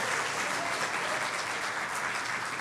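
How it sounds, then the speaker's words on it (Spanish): A church congregation claps steadily during a sermon, producing dense, even applause that stays loud and unbroken throughout, with no voices standing out. "Dale la ofrenda de palmas a nuestro Dios."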